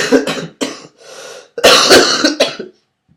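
A few sharp coughs and throat clearing sounds, close and loud, in short bursts with brief pauses between them.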